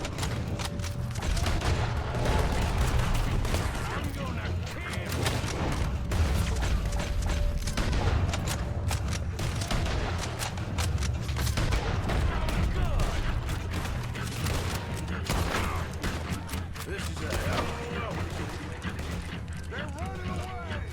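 Red Dead Redemption 2 gunfire, dense overlapping shots and mechanical clatter running continuously at a steady loud level through the battle, with players talking throughout.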